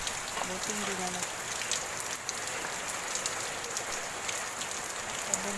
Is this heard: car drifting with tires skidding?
no